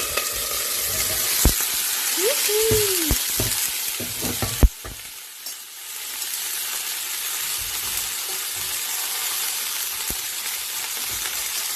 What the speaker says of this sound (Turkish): Şimdi tek tarafı kızarsın bekleyeceğim.